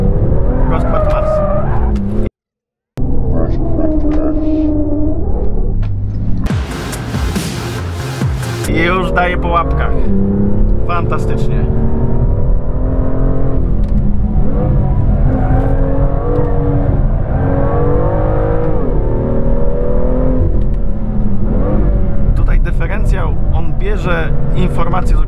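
A BMW M2 is driven hard on a race track, its engine droning and revving loudly throughout with tire noise and a brief skid, while someone speaks over it.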